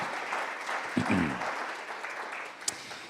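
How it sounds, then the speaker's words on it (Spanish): Church congregation applauding together, a steady, full wash of clapping that fills the whole clip, with a brief voice breaking through near the start and a sharp accent late on. "Fuertes aplausos a Él"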